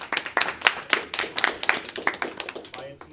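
A small group claps at a church gathering, sparse distinct hand claps in an uneven rhythm close by, a short burst of applause for about three seconds.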